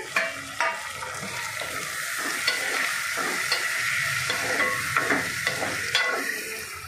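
Prawns and tomatoes fry in a pan with a continuous close sizzle and bursts of spatula stirring scrapes throughout, no voices.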